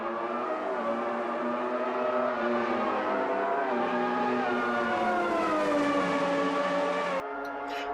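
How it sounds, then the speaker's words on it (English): Formula One race cars in Automobilista 2 at Interlagos scream past at full throttle, a continuous high-pitched engine whine with shifting pitch that cuts off abruptly near the end. "Prost puts his car in Mansell's mirrors, but is no threat going into turn 1"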